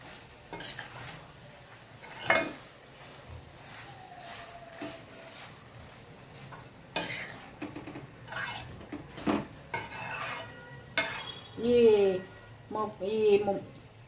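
Ivy gourd coconut fry stirred in a steel pan, with intermittent metallic scrapes and clanks of a spoon against the pan between pauses, close by, and a voice speaking at times.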